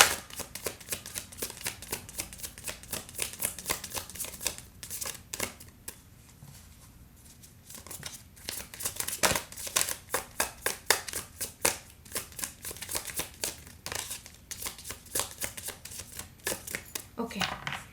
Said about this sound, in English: One more card for Pisces.